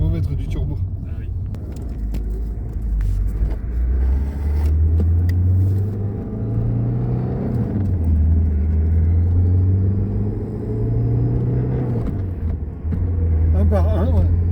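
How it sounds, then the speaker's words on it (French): A Citroën XM TD12 ambulance with a turbo diesel engine runs close by, a loud steady low rumble with faint turbo whine and slight rises in revs, while people talk over it in French. "On entend le turbo aussi."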